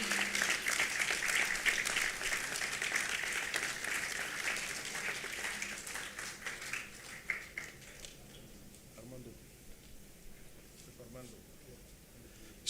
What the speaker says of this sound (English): So a big, large round of applause for this team from SJIHMCT,